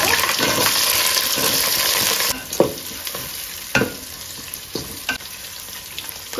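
Onion and chilli fry in hot ghee and oil, starting with a loud dense sizzle that quiets abruptly, then several distinct scrapes and knocks from a spoon stirring the pan.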